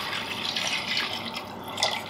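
Water being poured into a pot while making a cream soup with broth and miso, a quiet continuous splashing trickle with brief brighter splashes, fairly faint.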